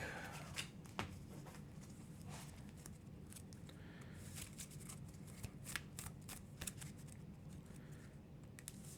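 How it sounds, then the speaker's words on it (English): A deck of challenge cards for the Earthborne Rangers board game is shuffled by hand, giving repeated crisp riffling and flicking bursts that run steadily and close-up for the whole stretch with no talking. "And shuffle the challenge deck."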